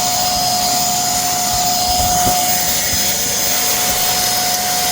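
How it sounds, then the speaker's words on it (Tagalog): A steady, loud vacuum cleaner motor drones continuously with a constant high whine, with no talking. "ito ngayon nabili kong vacuum kanina"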